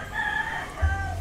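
A gamecock rooster, the kind kept as brood stag stock, lets out a single clear crow from fairly close by, with no voices.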